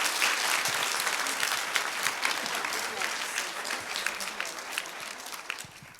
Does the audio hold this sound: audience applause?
yes